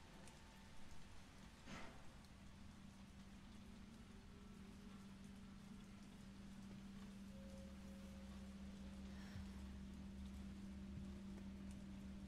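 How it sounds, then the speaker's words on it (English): Rain falls steadily as a soft, continuous patter in the video game Resident Evil 3. It is faint throughout, with a low steady hum beneath it. "I love me the sound of rain"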